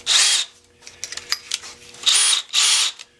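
An electric drill whirs in short bursts while making a woodturning screw chuck, loud and close, with quieter clicks and handling noises between the runs.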